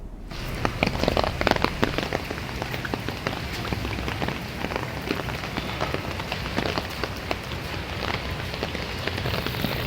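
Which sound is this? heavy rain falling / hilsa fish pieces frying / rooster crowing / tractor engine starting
heavy rain falling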